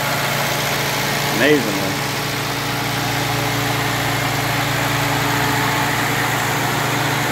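An M38A1 Army Jeep idles steadily just after starting for the first time in three years, a low, even rumble with the throttle raised slightly, under a man's brief speech.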